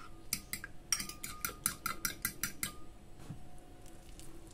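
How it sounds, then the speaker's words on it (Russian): A spoon clinks and scrapes quickly against a bowl as minced chicken is mixed with 15% sour cream, a dozen sharp rhythmic taps close by that then fade to quieter stirring. "И все хорошо перемешиваем."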